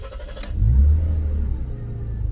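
A Volvo V60 engine catches and fires up with a brief starter sound, swells to a low rumbling rev, then settles into a smooth, steady idle close by.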